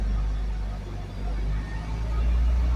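A Mitsubishi Lancer with a stock gearbox pulls away under acceleration, its engine a steady low rumble from inside the cabin, with a voice talking over it.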